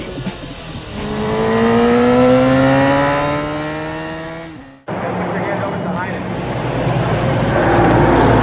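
A Repsol-liveried racing motorcycle engine revs loudly and unevenly, its pitch climbing and wavering under inconsistent throttle before cutting off abruptly, then roaring back in as a rougher, steady drone.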